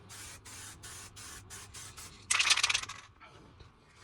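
A spray rattle can coating a Harley Benton DIY guitar kit body lets out a series of short, evenly spaced hissing bursts, followed by one louder, longer spray near the end, close up and without talk.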